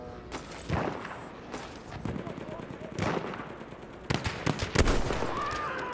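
Gunfire in the Battlefield 1 beta: bursts of rapid automatic shots and single cracks, loud and near, over a constant battle din, with a voice talking in places.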